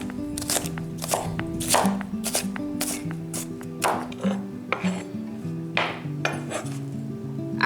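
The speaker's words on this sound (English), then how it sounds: "I do need to chop up the onion" A knife chops an onion on a cutting board in quick, irregular bursts of sharp taps, close and clear, with a soft tonal background underneath and no talking.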